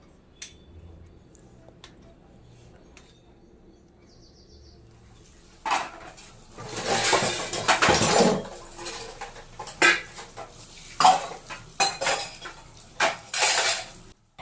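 Dishes being washed by hand in a kitchen sink: metal pots and cutlery clatter and scrape in irregular bursts under running water, fairly close, after several quiet seconds at the start.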